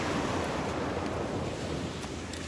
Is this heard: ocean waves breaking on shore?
yes